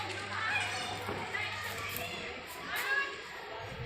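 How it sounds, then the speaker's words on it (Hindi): Children playing outdoors behind a house in Dehradun, Uttarakhand on a damp morning after rain: distant, lively kids' voices and shouts carry across the open space while a nearby adult speaks over them. "ये देखिए बच्चे खेल रहे हैं।"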